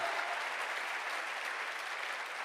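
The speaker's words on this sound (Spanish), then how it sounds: "Dale un aplauso al Señor." Sustained applause from a church congregation during a worship service, steady and dense throughout with no speech over it.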